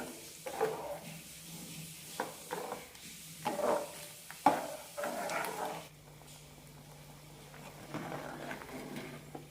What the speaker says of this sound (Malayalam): നന്നായി മിക്സ് ചെയ്യണം